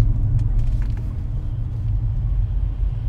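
A 2009 Nissan Maxima SV with 162,000 miles on a short test drive, heard as a steady low engine and road rumble from inside the cabin, with faint ticks and rattles above it.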